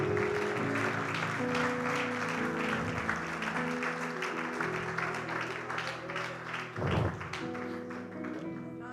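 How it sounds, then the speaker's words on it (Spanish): Church congregation applauding for the Lord during a Spanish-language Sunday service, a fairly soft, continuous patter of clapping with some talk mixed in. "Le podemos dar un aplauso al Señor"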